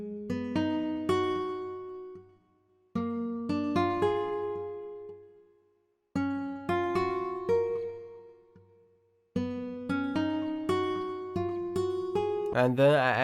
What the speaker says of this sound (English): And then I got a guitar sound by using this Contact Library.